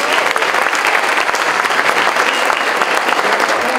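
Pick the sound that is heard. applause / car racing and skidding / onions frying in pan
applause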